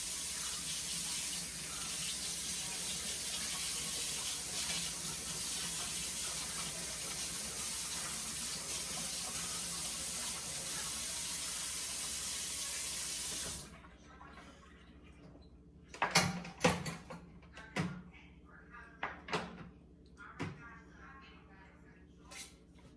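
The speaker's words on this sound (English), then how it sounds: "let's wash these things off" Tap water runs in a steady, close rush for about thirteen seconds while sweet potatoes are washed, then stops, followed by scattered knocks and clatters in the sink.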